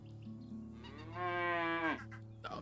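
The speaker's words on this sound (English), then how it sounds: "You heard the cow." A cow in the video game Medieval Dynasty gives a single clear moo lasting under a second, rising in strength before dropping off, heard over a quiet steady background with no talking.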